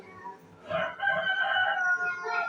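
A rooster crows once, long and wavering, close by, with faint clucking from chickens around it.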